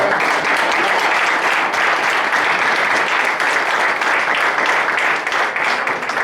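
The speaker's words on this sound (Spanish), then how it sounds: "Le damos un aplauso a Dios por eso." A church congregation claps together in loud, continuous applause that stays dense and steady throughout with no gaps.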